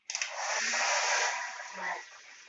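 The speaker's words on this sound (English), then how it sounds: "non-ionic hair dryer by Philips." A Philips non-ionic 1600 W travel hair dryer blows close and loud, a steady airy whoosh that starts abruptly and holds for the whole stretch, swelling slightly near the end.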